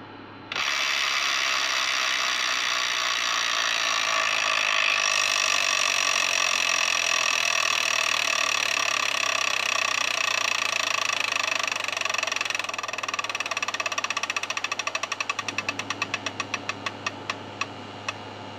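A Wheel of Fortune Deluxe Edition electronic tabletop game wheel spins with a steady mechanical whir and electronic tones, then slows into a run of quick ratcheting clicks that space out toward the end, with no speech.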